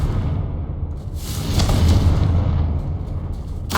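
A Confringo spell explosion in Hogwarts Legacy, a deep, rumbling boom that swells through the middle and fades, loud and close, with no talk over it.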